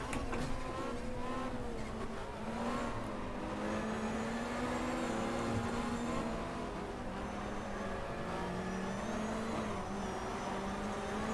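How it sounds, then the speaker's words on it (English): A 1993 BTCC touring car in the GTR 2 racing game spins its wheels at Silverstone National, the engine note wavering and whining as it struggles for grip, with other cars roaring alongside, moderately loud and without talking. "We just hear the wheel spin there as the car struggles for grip"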